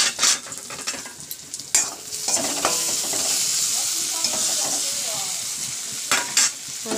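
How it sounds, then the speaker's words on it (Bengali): Neem leaves fry in a pan with oil, giving a steady bright sizzle broken by several sharp scraping stirs of a utensil. "দেখো নিম পাতা ভাজা করছি,"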